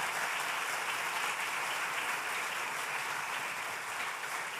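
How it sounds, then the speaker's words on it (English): Audience applause for panelists at the Appalachian Ohio State of the Region Conference 2024 fills the hall: dense, steady clapping from a large crowd, loud and sustained for several seconds without letting up. "How about a round of applause for my panelists?"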